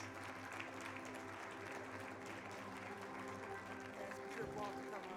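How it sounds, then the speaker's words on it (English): A crowd at an awards dinner applauds steadily throughout, a dense wash of clapping that stays even in loudness from start to finish. "Give him a round of applause, please."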